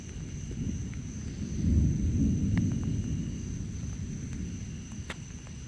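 Low rolling thunder from an August lightning storm in North Jersey, a steady rumble that swells around the second and third seconds and then fades, heard from outdoors with faint distant crackles and no talk.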